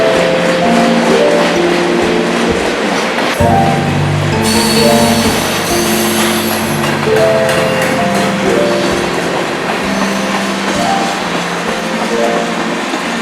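A manifest freight train rolls past close by, with a steady heavy rumble of wagons, clanking couplings and wheels squealing against the rails, loud and continuous throughout.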